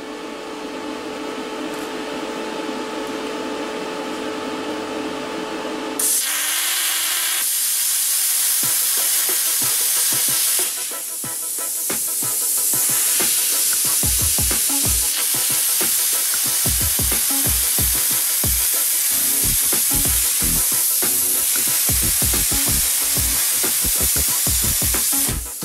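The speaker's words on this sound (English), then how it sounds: "Yes, the Cut50 on 220 volts is twice the machine it was." Cut50 plasma cutter running on 220 volts at 50 amps with the air set: a hum gives way to a loud, harsh sizzling hiss broken by crackling pops as the arc cuts, heard up close with no talking.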